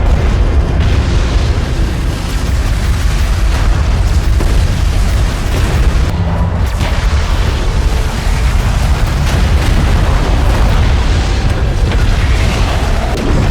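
Heavy, continuous battlefield rumble of an enemy railgun firing in Homeworld: Deserts of Kharak, with loud booming blasts and explosions layered densely throughout.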